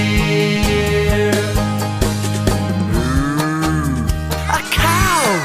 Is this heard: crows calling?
no